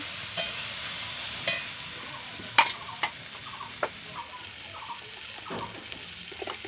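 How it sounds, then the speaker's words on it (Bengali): Chickpeas being sautéed with potatoes and spices in a pan, a soft steady sizzle under scattered spatula scrapes and clinks that come close and fairly loud, with no talking. "তারপর ছোলাটা কষানো হচ্ছে"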